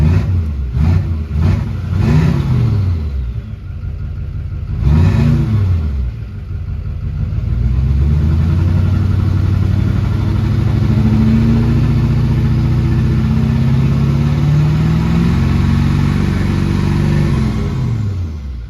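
A loud LB7 Duramax diesel engine with a 5-inch straight pipe exhaust rumbles and gets several quick revs, then a long sustained rev with a rising turbo whistle before settling back down.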